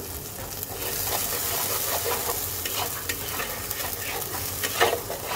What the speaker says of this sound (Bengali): খুব বেশি কষাবো না, 2-1 মিনিট এটাকে একটু কষাবো। মশলা ধোয়া জলটা দিয়ে দিলাম।